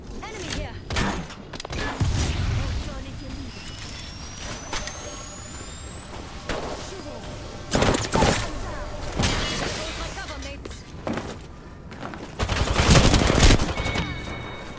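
Gunfire in the video game Apex Legends, with repeated bursts of shots and impacts that swell and fade across the clip, loud at times, under game effects and voice chat.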